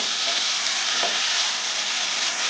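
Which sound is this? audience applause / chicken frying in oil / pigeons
chicken frying in oil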